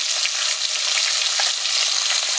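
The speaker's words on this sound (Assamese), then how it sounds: "তেল গৰম হৈ গ'ল, মই মাছ দি দিছোঁ।" Fish rubbed with salt and turmeric sizzles steadily in hot oil in a home kitchen, a dense, continuous crackling hiss close up, with no voices.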